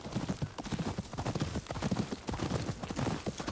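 A horse's hooves clip-clop at a steady walking rhythm in the video game Ghost of Yotei, soft and even across the whole stretch with no other sounds.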